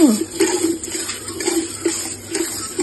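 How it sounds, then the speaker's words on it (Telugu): Prawns are being scrubbed with turmeric and salt and rinsed in plenty of water, giving continuous splashing and sloshing with small knocks against a vessel, moderately close and steady throughout. "ఎక్కువ నీళ్ళు పోసి బాగా కడగాలి"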